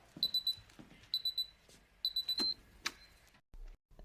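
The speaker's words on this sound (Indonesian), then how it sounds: "Setelah mendengarkan penjelasan Walter, alarm pun berbunyi, yang menandakan waktunya untuk melakukan produksi." An alarm clock rings in a lab in repeated bursts of bright beeping, three clusters in quick succession with a few sharp clicks, then falls quiet apart from low thumps.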